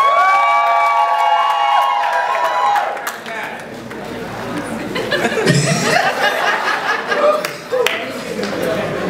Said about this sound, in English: Make some noise for M7